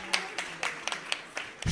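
Audience clapping in approval for donors at a religious discourse gathering, with a handful of sparse, separate claps spaced irregularly across a short stretch, faint and somewhat distant rather than full sustained applause.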